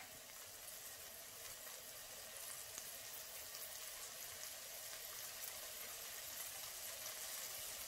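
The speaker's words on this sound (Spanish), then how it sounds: "Vamos a freír la cebollita." Onion frying in a pan for spinach in cream, a steady faint sizzle and crackle with no voices.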